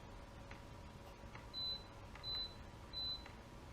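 A small electronic device beside a vintage Beta trial bike gives three short, evenly spaced beeps, each a clear high tone over a faint background hum, with no voices.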